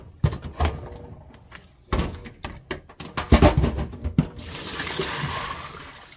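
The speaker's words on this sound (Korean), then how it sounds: "이제 차가운 물에다가 이렇게 담가 놓는 거죠." Thick Korean bean sprouts for steaming are handled in a kitchen, with clattering knocks and thuds followed by a rush of cold water splashing into a bowl.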